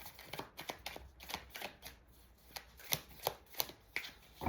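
Tarot cards are dealt and laid down one after another on a surface, a run of soft slaps and quick paper flicks at an uneven pace, close and fairly quiet.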